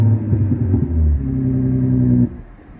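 A 2022 BMW 7 Series G11 with a Thor electronic exhaust mimicking a Nissan GT-R revs in two quick bursts, then holds a longer, steady rev before cutting off to idle, deep and close.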